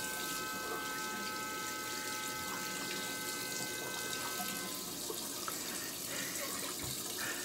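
Running tap water rinsing a straight razor blade at a sink, a steady close hiss of flowing water with small splashes and shifts as the blade passes through the stream.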